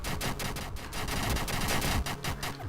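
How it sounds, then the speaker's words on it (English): Rapid automatic gunfire in a video game, dense repeated bursts of shots firing continuously, moderately loud and close with no speech over it. "Just keep shooting him!"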